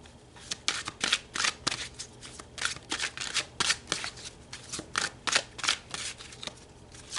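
Tarot cards riffle and slide in a steady run of crisp, papery bursts, close and fairly quiet, with no talking over them.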